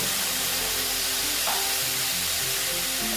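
Spices sizzle and fry loudly in a pan just after water is added, a continuous close hiss with faint stirring underneath.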